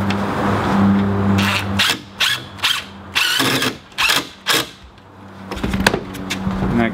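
A driver runs 3.5-inch screws into a wooden garden trellis in a series of short, loud, close bursts separated by brief pauses.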